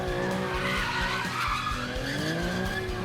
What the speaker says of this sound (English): Cameras captured chaos across Orange County, cars revving up, taking over the roads.